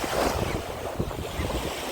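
Sea surf and gusting wind on the Odesa shore in winter, a continuous rushing wash of waves with wind buffeting the microphone, fairly loud and close, with no voices.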